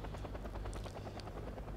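Rapid, steady rotor thumping of a helicopter in Wargame Red Dragon, a rhythmic chopping beat with a faint buzz, fairly quiet and unbroken, with no talk over it.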